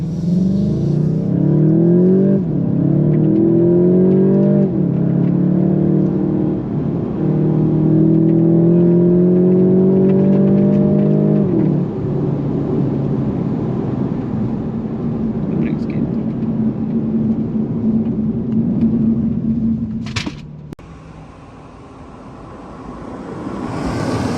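A VW Golf GTI launches hard using launch control, its engine note climbing through several quick gear changes as the car pulls away, then settling into road rumble with people talking inside the cabin.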